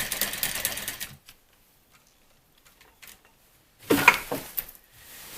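A sewing machine stitches valance fabric in short bursts of rapid mechanical whirring and ticking, close by, separated by a quiet pause.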